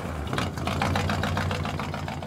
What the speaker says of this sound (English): Just blah, blah, blah, blah, that's flathead sound.